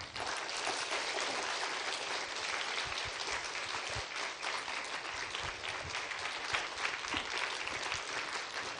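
Sustained applause from a church revival congregation welcoming a pastor to the stage, a broad, even wash of many hands clapping throughout at moderate distance.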